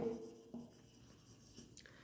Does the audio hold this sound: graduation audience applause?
no